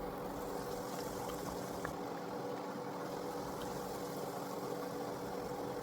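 A pastel sizzles steadily in hot frying oil, a dense, even crackling hiss that holds without pause from start to finish, with no voices.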